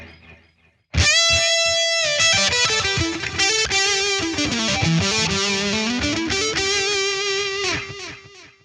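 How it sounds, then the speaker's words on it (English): A distorted electric guitar with a delay effect plays a sustained, heavily overdriven riff with ringing notes and trailing echoes, loud and close, with no talking. "So now I've got delay on if I want it."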